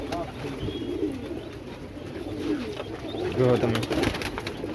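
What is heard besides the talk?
pigeons cooing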